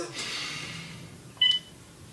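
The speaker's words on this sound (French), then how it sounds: "Téléphone." A telephone gives a single short electronic beep, clear and close, after a quiet stretch of room tone.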